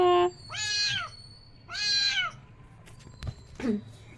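A cat meows several times in a home, with long clear meows spaced apart and a softer final meow, close to the listener.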